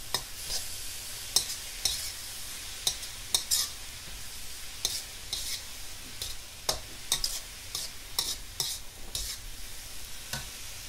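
Vegetable momo filling is stirred in a hot pan, a steady sizzle broken by repeated sharp scrapes and clicks of the spoon against the metal, close up and with no voices.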